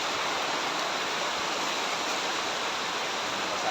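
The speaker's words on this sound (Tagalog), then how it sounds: "Ayan, lumakas na ulan." A dense, constant roar of heavy rain with a steady hiss and no breaks or voices.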